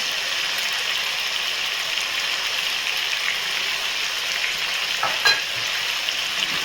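Chicken pieces for karahi frying with ginger paste in a pan, giving a steady, close sizzle with light stirring scrapes near the end and no talk.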